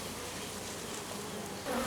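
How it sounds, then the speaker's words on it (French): Carpatica honey bees buzzing over a frame from a Miniplus mini hive, a close, steady droning hum that swells slightly louder at the very end, with no talking. "il y a quand même pas mal d'abeilles dessus"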